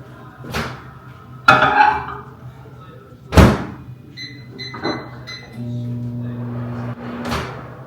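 A kitchen microwave door is opened and shut with several sharp clunks and thumps, followed by faint beeps and a steady low hum as the oven runs while cooking salted butter.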